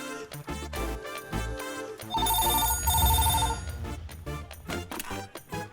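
An old-style telephone bell rings in a Hindi action film starring Arjun Sarja, a bright rapid trill lasting about a second, heard over a loud, dramatic orchestral score with heavy percussion.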